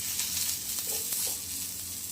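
Plenty of garlic sizzles in hot oil in a pan for chicken kharda, a close, steady hiss with soft stirring scrapes and no talking.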